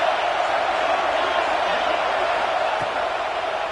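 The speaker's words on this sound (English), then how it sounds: "This crowd ready to make its presence known." Football stadium crowd at an All-American Maryland game, a dense steady roar of cheering and voices filling the whole clip, broad and continuous with no breaks, heard from within the stands.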